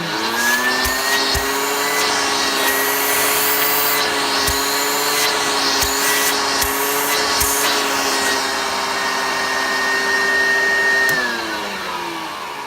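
A 250-watt Hoover Junior U1012 upright vacuum cleaner runs steadily with a loud, sustained motor whine and rushing suction, with faint ticks underneath before the motor winds down near the end.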